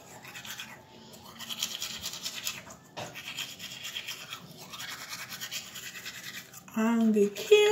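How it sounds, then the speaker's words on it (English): Close, steady scrubbing of a toothbrush on teeth, a dense bristly rasp that continues for several seconds with short pauses, with some vocal sounds mixed in. "when I'm done brushing my teeth"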